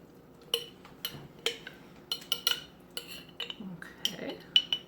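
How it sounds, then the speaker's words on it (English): Spoon stirring overnight oats with warmed blueberries in a jar or bowl, a quick irregular series of close clinks and scrapes against the container, with no voices. "And just give it a really good stir."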